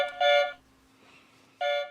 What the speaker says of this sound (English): the third is a car horn